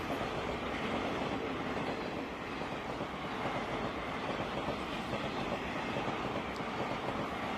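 An Indian Railways train hauled by a WAP-7 electric locomotive rolls past with a steady, loud, continuous rumble of wheels and rail clatter across the whole stretch, with no voices.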